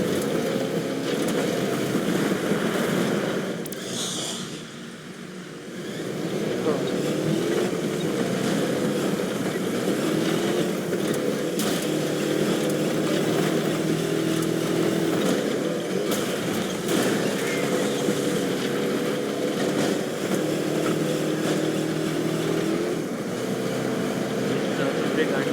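A car driving off-road in the video game Watch Dogs 2 makes a continuous engine drone that rises and falls, with a brief dip partway through, while a voice talks over it.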